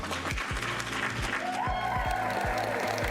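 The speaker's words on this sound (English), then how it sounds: "Lots of clap." Audience clapping at a live philosophy talk show, a steady wash of applause mixed with a repeating low rhythmic thump of background music, fairly loud throughout.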